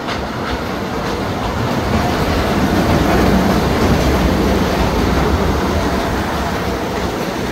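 A train hauled by a coal engine rumbles past close by, a loud and continuous roll of wheels and clatter that stays steady from start to end, with no talking.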